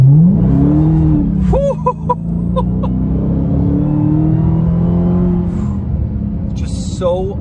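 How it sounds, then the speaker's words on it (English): 2020 Dodge Charger Hellcat Widebody accelerating, a loud deep engine roar with rising pitch heard from inside the car, continuous throughout, while someone talks over it. "One insane part is the sound it makes when you accelerate,"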